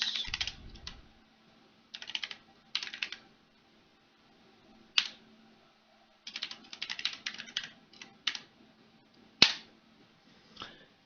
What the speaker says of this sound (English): I'm going to go ahead and type in mkdir mnt and then type in OS drive